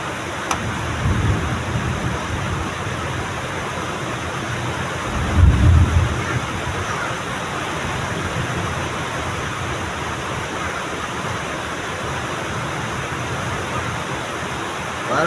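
Heavy rain pours down in a constant dense hiss, with a low rumble swelling briefly near the middle, steady and loud throughout with no voices.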